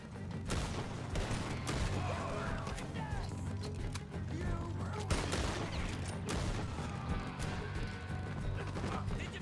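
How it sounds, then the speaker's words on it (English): Gunfire in the Red Dead Redemption 2 video game, a dense stream of shots and crashes over a continuous loud game soundscape, with a voice talking throughout. "God, you're a terrible shot, Arthur."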